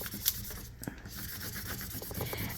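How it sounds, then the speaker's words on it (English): Close rubbing and scraping as heat transfer vinyl is burnished onto a toddler's shirt, steady friction strokes with a few sharper scratches over a low background hum. "Then I'm going to turn it over and I am going to burnish it."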